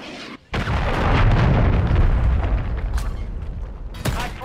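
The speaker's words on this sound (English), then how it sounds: "Friendly cruise missile deployed." A cruise missile explodes in a Call of Duty multiplayer match: a sudden loud blast breaks out of near silence, then a heavy, sustained rumbling roar rolls on for several seconds with scattered crackles.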